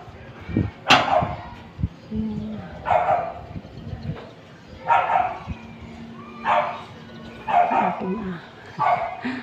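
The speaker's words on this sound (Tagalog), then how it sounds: "Aking aso sa baba, maingay pag may tao." A dog barking from downstairs in a house, six or so loud sharp barks spaced a second or two apart, with a person talking underneath.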